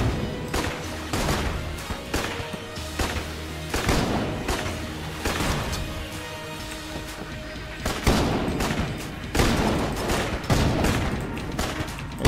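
Repeated gunfire from a weapon in the bullet-hell game Enter the Gungeon, dense, loud bursts of shots with booms and crashes layered over busy game music, continuing steadily throughout.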